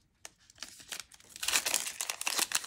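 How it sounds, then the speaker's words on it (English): Paper is torn and crinkled by a dog, with sporadic ripping and crumpling that builds into a denser, louder stretch of tearing close by. "my dog's back to tearing up paper"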